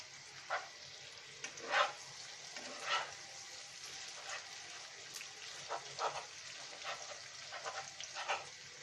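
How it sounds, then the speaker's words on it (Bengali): Rohu fish roe frying in plenty of hot oil with steady low sizzling, broken by scattered stirring scrapes and soft pops, fairly close and with no voices. "ডিমটা আমাদের খুব সুন্দর করে ভাজতে হবে"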